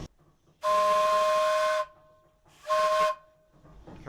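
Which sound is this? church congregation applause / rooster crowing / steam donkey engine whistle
steam donkey engine whistle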